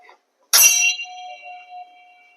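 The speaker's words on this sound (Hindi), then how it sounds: "कोटे घंटी बाजिला" A single bright temple bell strike at a Tibetan Buddhist monastery in Odisha rings out close and clear, then its metallic tone hums and slowly fades.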